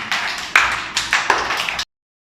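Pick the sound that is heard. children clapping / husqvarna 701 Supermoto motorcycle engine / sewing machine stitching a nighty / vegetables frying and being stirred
children clapping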